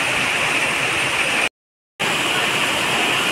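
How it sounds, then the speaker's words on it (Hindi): Heavy rain pours down in a Delhi park, a loud, dense hiss that runs steadily, cuts out completely for half a second, then resumes at full strength. "काफ़ी तेज़ की बारिश हो रही है"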